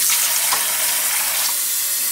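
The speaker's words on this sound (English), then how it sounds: "what I usually do is I put a little water in it and then microwave it." Water from a kitchen tap runs into a bowl of measured rice as a steady, close, hissing splash with no talk.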